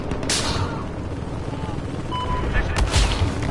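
Battlefield 4 multiplayer battle noise with continuous rumbling gunfire and a few sharper cracks standing out, steady and fairly loud, with some speech mixed in.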